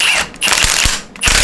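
Pneumatic impact gun on full power rattling loose a 32mm centre nut on a classic Fiat 500/126 engine, two loud bursts of hammering clatter separated by a short pause, close and alone.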